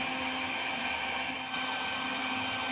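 A hair dryer heating old glue on a headlamp from a 2005 Toyota Vios Limo, giving a steady, even, close-up whooshing whine that holds constant with no pauses.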